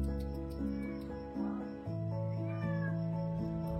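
An aggressive cinnamon-coloured cat meows close up, a run of loud, drawn-out meows following one another with almost no pause.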